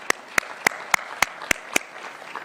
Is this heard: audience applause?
yes